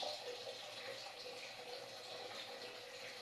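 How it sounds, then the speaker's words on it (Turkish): Water poured over black olives being cured, a soft continuous splashing stream, fairly quiet and steady throughout. "Ben şimdi üzerine suyu ayarlayacağım."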